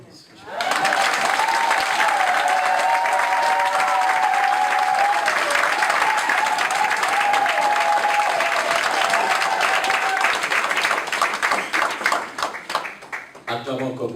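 A church congregation claps loudly and continuously for over ten seconds, a full sustained round of applause with voices and a tone rising within it before it tails off.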